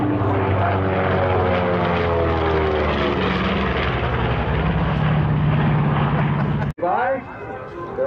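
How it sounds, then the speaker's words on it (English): A B-25 Mitchell bomber flies past at the 2013 Hamilton Air Show, its loud, steady piston-propeller drone filling the air and then cutting off sharply, while an announcer talks over it. "as the aircraft fly by"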